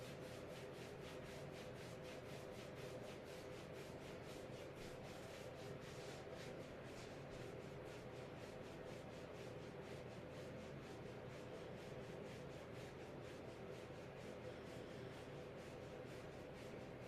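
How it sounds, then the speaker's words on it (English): Hands rub down the lower back toward the tailbone in a steady, continuous brushing friction, faint and alone, with a soft rasping texture throughout. "Rubbing down the body. Rubbing down, rubbing down."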